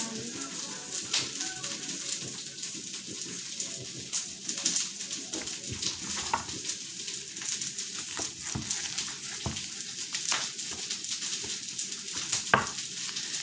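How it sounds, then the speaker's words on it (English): Thinly sliced onion rings fry in a pan with a steady sizzle, broken by scattered sharp crackles and pops, close up and with no voices. "So I like to thinly slice it and just put the rings in the pan"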